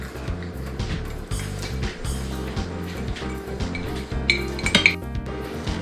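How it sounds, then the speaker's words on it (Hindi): Dry ingredients being mixed in a bowl for a gluten-free macaron cake, with repeated clinks and scrapes of a utensil against the bowl in an uneven rhythm, close and fairly loud, ending in a brighter cluster of chinks. "अब इसमें सारे ड्राई इंग्रेडिएंट्स मिक्स कर दें।"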